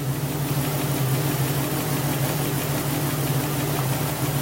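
Triumph Spitfire engine from a barn find, jump-started from a Jeep, running at a steady, loud idle with a constant low hum and no break in the sound.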